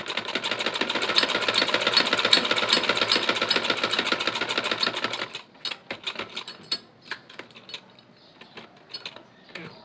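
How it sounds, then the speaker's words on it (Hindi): An electric sewing machine stitches along a fused neckline on a garment, running fast and continuous for about five seconds before stopping, followed by scattered mechanical clicks and taps of the needle and fabric. "उसके बाद से जहाँ पर फ्यूजिंग आ जाए वहाँ से आपने बिल्कुल फ्यूजिंग के साथ साथ स्टिच करते जाना है।"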